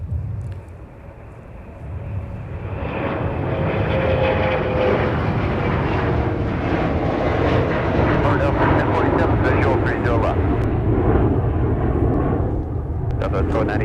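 A Delta heavy airliner at Minneapolis–St. Paul airport, its jet engines building into a broad, steady roar that swells and holds for several seconds, with talk heard over it.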